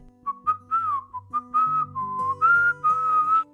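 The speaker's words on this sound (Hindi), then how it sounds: "और खुशनुमा ढंग से सीटी बजाने लगती है" A person whistles a cheerful, lilting tune indoors, a series of clear close notes rising and falling in short phrases with brief breaks between them.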